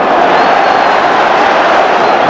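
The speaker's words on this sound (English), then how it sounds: "Draws applause from the home fans." Home supporters at a Rangers versus Celtic Scottish Premier football match in 1995 give a broad, sustained roar of applause and cheering, dense and continuous from a large stadium crowd.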